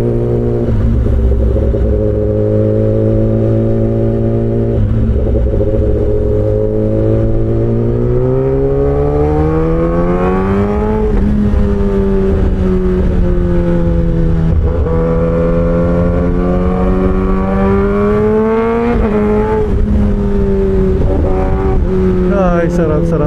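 A Kawasaki ZX-10R motorcycle riding through traffic, its engine note droning loud and close with steady harmonics that rise and fall as the rider shifts and accelerates, over continuous wind rush.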